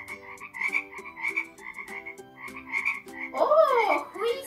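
Frog croaks repeat in a quick, pulsing rhythm, loud and close, ending in a burst of rougher, rising calls.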